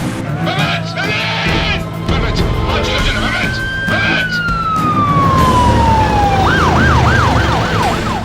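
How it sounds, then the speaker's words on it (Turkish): An ambulance siren rises and then falls in a long wail before switching to a fast, warbling yelp. It is loud and close, with a steady hum underneath and dramatic voices talking over it. "Geliyor ambulans."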